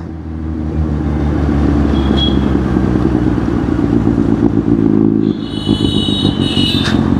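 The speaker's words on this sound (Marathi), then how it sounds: "गाडीचा आवाज ऐका फक्त आता" A vehicle engine rumbles steadily and loudly throughout while driving, with some rattling clatter and a brief higher whine near the end.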